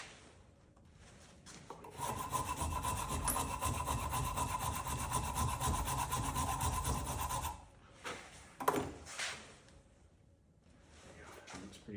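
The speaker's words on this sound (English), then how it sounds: "Use the fine side on this Shinto rasp." A Shinto rasp, used on its fine side, files the wooden handle of a hand-forged axe with a loud, continuous run of fast scraping strokes. The filing stops, then a few knocks and handling noises follow.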